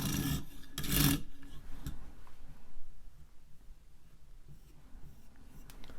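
Serrated bread knife being sharpened in a clamp, with a dry rasping scrape at the start and then lighter rubbing strokes along the blade, close and fairly quiet.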